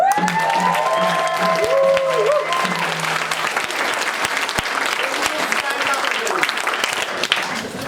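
Sustained audience applause at a strike songs sing-along event, steady and dense throughout, with whistle-like tones and voices mixed into the crowd noise early on.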